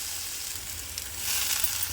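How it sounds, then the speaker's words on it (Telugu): Dry coconut frying in a pan as a base for veg kurma gravy, alongside watermelon seeds and sesame, giving a steady close hiss of sizzling that swells slightly louder toward the end, with no voices. "ఎండు కొబ్బరి వేస్తున్నాను కాబట్టి ఫ్రై చేస్తున్నాను."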